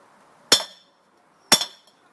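A lump hammer strikes a tube spanner fitted on an engine flywheel. Two sharp, ringing metallic whacks land about a second apart, close and loud, each decaying quickly into near silence.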